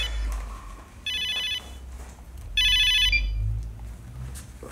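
A phone ringing in two electronic bursts about a second long each, separated by a short pause, clear and near over low background hum.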